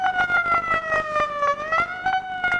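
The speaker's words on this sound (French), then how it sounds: "un des premiers synthés dans une valise très James Bond" An early 1960s briefcase synthesizer, the AKS, plays a warbling siren-like tone with stacked harmonics, pulsing in a rapid rhythmic chop and gliding slightly in pitch, loud and alone.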